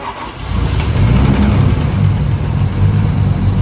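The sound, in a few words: Nissan 350Z engine starting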